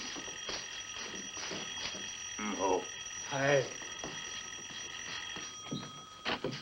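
A bell rings steadily and thinly through a 1958 film scene, a continuous electric ringing under brief spoken voices.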